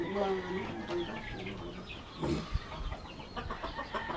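A rooster clucks several times, fairly close, mixed with other soft farmyard noise and a faint voice in the background.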